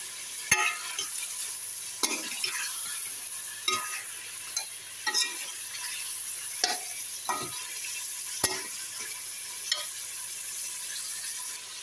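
A salted handi mixture stirred in a pan, a spoon scraping and clanking against the metal in irregular strokes over a soft background sizzle, with no talking.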